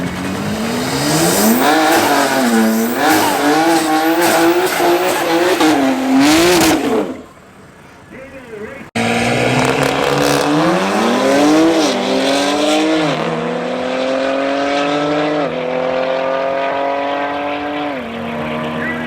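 BMW X3M and 7R drag race cars rev hard and launch, loud engines climbing through gears; a brief drop, then another loud acceleration rising through several shifts and fading.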